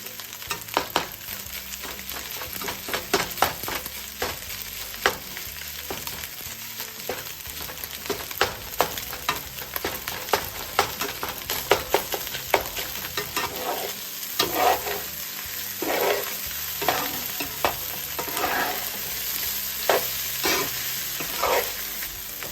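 Thai beef fried rice stir-fried in a hot pan, a steady sizzle broken by repeated scraping and tossing strokes of the spatula, close and loud with no talking.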